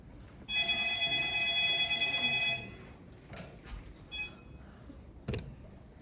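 A telephone rings on stage during a theatre play, a bright electric bell trilling for about two seconds, followed by quieter knocks and shuffling stage noise and a sharp thump near the end.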